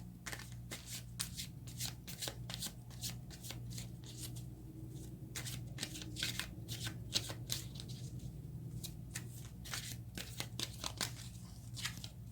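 Tarot cards being shuffled and drawn by hand, a long run of quick riffling bursts and soft card slaps in irregular clusters, close and fairly quiet, with no speech.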